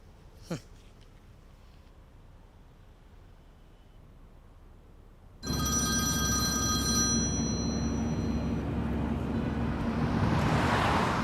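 A mobile phone starts ringing partway through, its bright, repeating electronic ringtone loud and close against a low background rumble, after a quieter stretch with a single short knock near the start.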